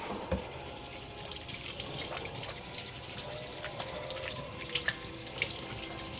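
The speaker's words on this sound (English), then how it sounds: "I'm going to rinse my hands off." A kitchen tap runs steadily into a sink while hands are rinsed, with a close, continuous gush and small splashes and drips on top.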